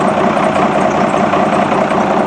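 A truck engine idles loud and close, a steady low rumble with an even throbbing and no talk over it.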